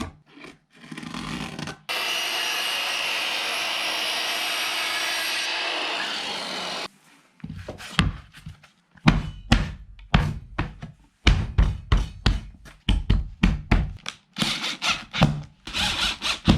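Wooden floor pieces being cut and fitted: several seconds of continuous rasping saw or sander noise, then a long run of sharp, close wooden knocks and taps as pieces are tapped into place.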